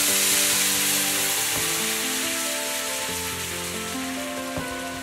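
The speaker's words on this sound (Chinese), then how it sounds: "我们把这个清鸡汤倒进来。" Clear chicken broth pours into a hot pan of salmon, setting off a steady broadband sizzle and hiss that slowly fades. Faint tonal background sounds run underneath, with no talking.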